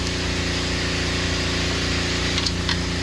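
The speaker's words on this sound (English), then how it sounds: "they just turned on the pressure washer" A pressure washer runs nearby during oil pan work on a 2013 Hyundai Genesis 3.8L, making a continuous motor and pump drone with a steady hum that holds at an even level the whole time.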